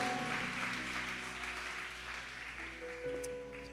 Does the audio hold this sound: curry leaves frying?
no